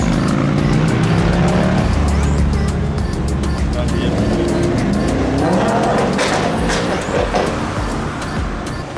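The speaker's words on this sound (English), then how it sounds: "Got the Audi R8 just about leaving the pack, and then these cars everywhere." Audi R8 and a crowd of tuned cars, including a Ford Mondeo and a Suzuki Swift, pulling away from a car meet in South Africa; loud, continuous engine roar with revving and tyre noise, voices talking over it.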